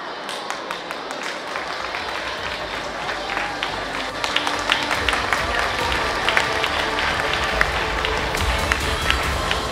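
Warm applause from an audience at a school Confucius Classroom anniversary ceremony as the Chinese ambassador to Madagascar is welcomed, dense continuous clapping filling the hall, steady and fairly loud.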